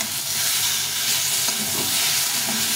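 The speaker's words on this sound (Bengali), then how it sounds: "এই টমেটোটা দিয়ে আবার একটু ভালো করে নেড়ে নেব" Spiced eggplant fried without water sizzles steadily in a pan as tomatoes, one small and one large, are stirred in, with a continuous close frying hiss and soft scraping from the stirring.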